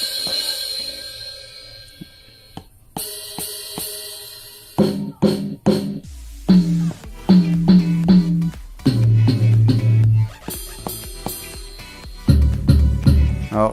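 Electronic drum pad run through its built-in kit sounds one after another, mixing sharp cymbal and hi-hat hits with booming bass drums and toms, struck in separate bursts with brief gaps, close and loud, no talking.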